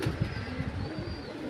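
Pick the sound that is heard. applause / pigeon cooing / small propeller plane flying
pigeon cooing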